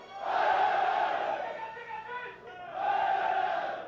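A huge crowd cheers and shouts together as the last tunnel boring machine breaks through to finish the Southern Tunnel. The roar swells, dips briefly, then surges again at moderate distance.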